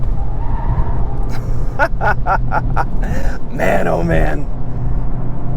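A 2022 Volkswagen Golf GTI S, the eighth-generation Mk8, driven hard at the limit with its limited-slip differential working, gives a steady engine drone and brief bursts of tire noise. Someone talks excitedly over it.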